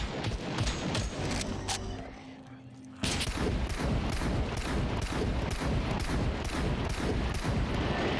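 Rapid automatic gunfire in the video game SCUM, a loud burst of many closely spaced shots; after a brief quieter lull, sustained fire continues steadily to the end.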